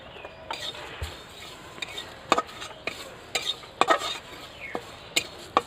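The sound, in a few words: spices dry-roasting in a pan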